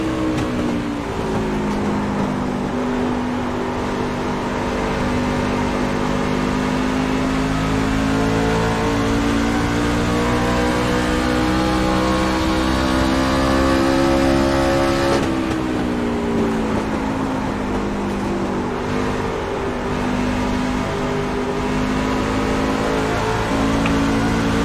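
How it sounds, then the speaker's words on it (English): A pickup race truck in the iRacing game at Phoenix roars loud and steady, its engine note climbing and falling as the throttle is worked, with a brief dip and recovery midway through. "Much better getting on the throttle there."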